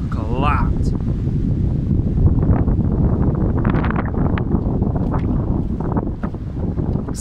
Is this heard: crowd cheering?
no